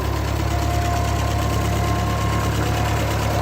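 A 1941 Ford 9N tractor engine runs steadily at a loud, close idle, a continuous mechanical drone with a faint knocking pulse and no pauses.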